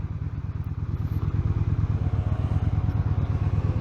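A Yamaha XVS 950 Bolt motorcycle's V-twin engine at full throttle in first gear produces a steady, deep, pulsing rumble with some mechanical clatter, close and continuous throughout.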